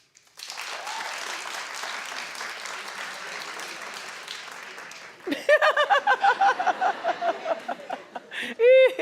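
Audience applause fills the first half, steady and moderately loud, then breaks off as a voice speaks in bursts with scattered laughter.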